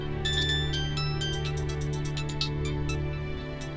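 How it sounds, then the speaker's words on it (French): A phone ringtone rings in a home during a dubbed TV drama, a rapid series of bright electronic tones repeating steadily for several seconds over a constant low background hum. "Ton téléphone sonne."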